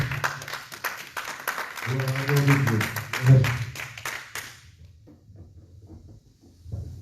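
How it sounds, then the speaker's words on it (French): Church congregation applauding for the glory of God, dense clapping from many hands with a low voice or hum underneath, fading out after about five seconds into a few scattered taps. "Applaudissez d'abord pour la gloire de Dieu"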